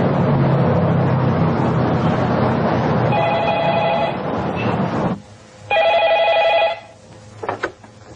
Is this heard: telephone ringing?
yes